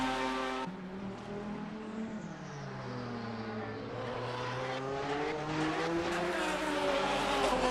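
Race car engine roaring past at Classic Le Mans, an LMP 900 or Cadillac, its pitch sweeping down and then climbing again under acceleration, loud and sustained with other cars faintly behind.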